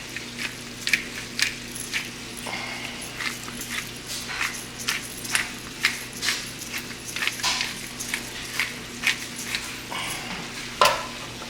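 Food frying in a pan is stirred during a meatloaf meal cook, giving a steady close sizzle with repeated scraping and clinking stir strokes throughout.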